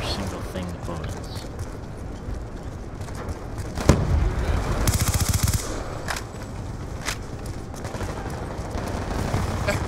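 Rapid automatic gunfire in Black Ops 2 multiplayer runs through a dense, noisy game mix, with a sharper burst of shots around the middle, while players talk throughout.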